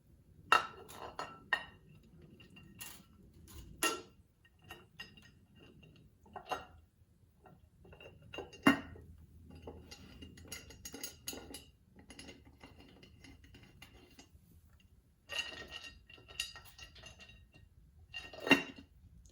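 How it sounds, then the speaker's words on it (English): Rocker box cover and bolts are set onto a Harley Twin Cam engine: scattered light metallic clinks, taps and ticks, close and quiet, with short pauses of near silence between handling sounds. "I'm going to set on the cover with a couple of the bolts just to line up the gasket"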